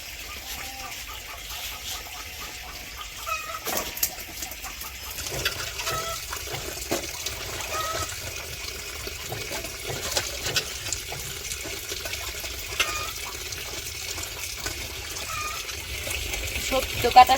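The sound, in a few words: washing cut greens and vegetables in running water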